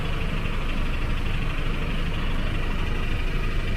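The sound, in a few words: water pump running near a park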